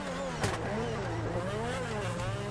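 A Ferrari sports car engine in GTA 5 revs loudly and steadily, a dense, rising and falling mechanical roar with a sharp burst near the start, heard alone at close range.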